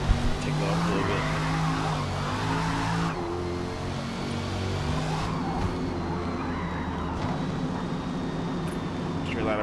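Drift car engine in Forza Motorsport revving hard and steadily throughout, with tire squeal and shifting throttle tones, loud and close with no pauses.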